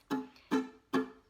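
Three quick ukulele strums played alone and close, each cut short and dull because the fretting fingers are touching neighbouring strings and deadening them.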